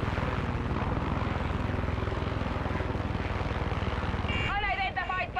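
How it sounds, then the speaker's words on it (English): Helicopter in the video game Far Cry 6, a steady, loud rotor thrum and engine drone filling the whole stretch, with a brief higher whine near the end. "So glad that they didn't use this chopper on me so I could take it."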